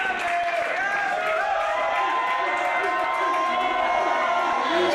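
A wrestling crowd roars with sustained cheering and applause for B-Boy and the iLLa Tribe after a hard-fought match, a dense, loud, unbroken wall of noise with voices mixed in.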